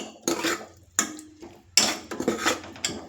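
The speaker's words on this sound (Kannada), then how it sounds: "ಈರುಳ್ಳಿ ಜೊತೆ ಚೆನ್ನಾಗಿ ಸ್ವಲ್ಪ ಫ್ರೈ ಮಾಡ್ಕೊಳ್ಳೋಣ." A utensil stirs onions in a pan for a bamboo shoot and chicken curry, giving three close bursts of scraping and clinking against the metal, with a soft frying hiss between them.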